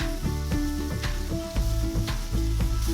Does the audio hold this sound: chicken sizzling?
yes